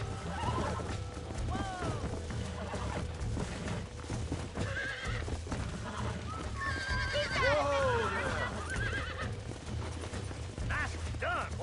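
A horse in the Red Dead Redemption video game neighs and whinnies repeatedly while being broken, with clip-clopping hooves and a rider's voice speaking over steady game ambience.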